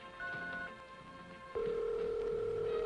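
A Bell System telephone line gives a short tone, then a steady continuous dial tone sets in and holds clearly to the end.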